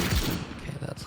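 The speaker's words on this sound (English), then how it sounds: "That's a single shot." A single gunshot in the video game Anarchy Legends Online, one brief crack near the start with a voice talking over the sound.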